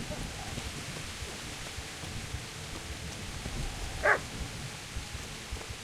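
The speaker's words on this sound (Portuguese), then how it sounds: "Caraca, tô vendo um cachorro latindo aqui" A single short dog bark in the medieval video game Kingdom Come rings out once over a faint, steady background hiss, fairly distant and quiet.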